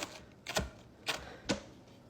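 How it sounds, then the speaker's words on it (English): A chef knife cuts through a crispy, cracker-thin pizza crust into squares. Three close, faint, dry crunches come at roughly half-second intervals against quiet. "I'm using a chef knife. But can you hear how crispy that is?"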